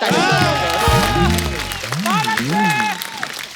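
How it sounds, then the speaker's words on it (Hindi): Studio audience applause on a television comedy talk show, loud and sustained, with a voice singing or talking over the clapping throughout. "तालियां, थैंक यू। ताली हो जाए।"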